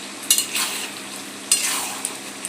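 A spoon stirs butter into a thick chicken and winter vegetable gravy in a hot pan: two brief scraping strokes over a steady, close sizzle, with no talking.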